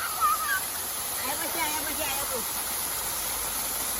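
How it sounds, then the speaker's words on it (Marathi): A natural waterfall pours in a steady, broad rush of falling water that holds level throughout, with a voice speaking briefly near the start. "बघा धबधबा आमचा."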